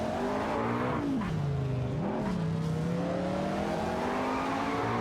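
Race cars in a racing video game, including a Maserati Ghibli and Porsche 911 930 Turbo 3.3s, roar continuously with engines rising and falling in pitch as they shift and rev, loud and close throughout.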